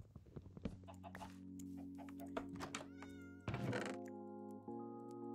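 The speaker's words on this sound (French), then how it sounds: "Et j'ai entendu un miaou." A Minecraft cat meows several times in short, clear calls over steady in-game music, with an occasional soft thunk.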